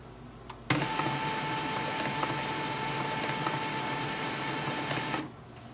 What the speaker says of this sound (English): After some time, the printer will switch off and restart.